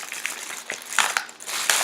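A plastic bag being crumpled and handled near apples, giving a continuous loud crinkling rustle with sharper crackles throughout, no voices.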